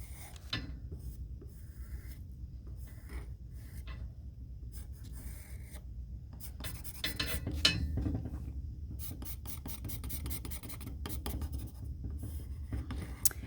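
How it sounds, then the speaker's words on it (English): Pencil outlining mountain shapes over underglaze on a ceramic piece, a steady close scratchy rubbing that continues for several seconds in quick back-and-forth strokes, with no talk. "I would outline your mountains as well."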